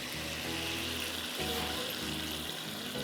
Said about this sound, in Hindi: अब मैं इसमें पानी डाल रही हूँ,